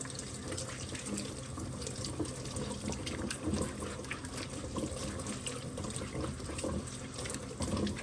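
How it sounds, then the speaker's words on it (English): Sweet potatoes washed under a running kitchen tap, a constant splashing stream of water with soft rubbing and drips as the dirt is rinsed off, close and continuous. "Just washing the excess dirt off these potatoes."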